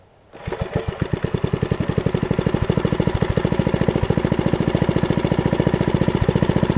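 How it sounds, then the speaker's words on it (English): A 50-year-old Merry Tiller with a 5 hp Briggs engine fires up and settles into a steady, rapid idle, its loud chugging pulses close and continuous with no talking. "I'll give you one last start and an idle just for good measure here."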